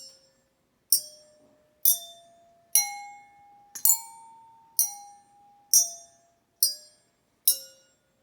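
Nine tuned water glasses, filled with decreasing amounts of water, struck one at a time playing a pentatonic scale, clear ringing tones stepping upward in pitch at an even pace, each bright chime fading before the next.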